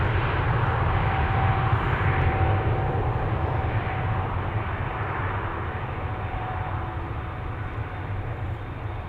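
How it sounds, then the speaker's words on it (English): Emirates SkyCargo Boeing 777 freighter taking off from Amsterdam Schiphol, a steady, fairly loud low engine rumble with a faint whine, slowly fading over several seconds with no voices. "tuning in to see the Emirates Sky Cargo 777 freighter take off to Dubai"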